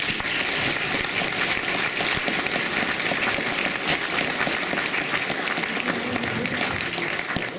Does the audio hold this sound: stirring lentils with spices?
no